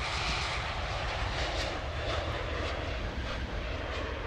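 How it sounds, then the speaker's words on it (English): Airplane flying overhead near Gatwick Airport in the train simulator game Train Sim World 2, a continuous broad jet-engine roar that stays steady and fairly loud for the whole stretch, with no voices. "You have a plane there, you have a plane there."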